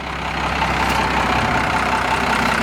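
A 1992 Dodge Ram 2500 4x4 pickup with an intercooled 12-valve Cummins 5.9 diesel idles at a steady, even clatter, close and loud, with no talking over it.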